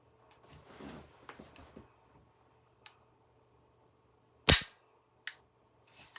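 A PSA AR47 pistol's trigger is dry-fired, giving one sharp, loud mechanical click and a second smaller snap, after some faint handling clicks in a quiet room.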